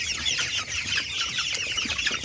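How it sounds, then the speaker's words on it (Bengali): Hens and roosters on a poultry farm cluck and chatter continuously, several birds overlapping in a busy, close flock with no talking. "তো মুরগিগুলো দেখতে পাচ্ছেন, এই মুরগি মোরগ প্রায় সেম হয়েছে এবার।"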